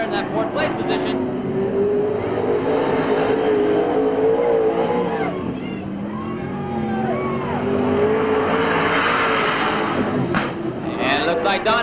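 Street stock race cars roar around the oval at Merced Speedway in 1989, engines droning and shifting pitch as the pack passes, with a commentator talking over the continuous racing noise.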